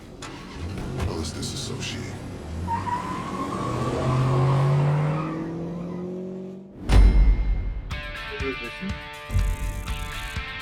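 A police car in the GTA 5 video game starts up and revs while driving, rising engine whine and roar, then an abrupt cut to different game sounds, with a voice speaking over it.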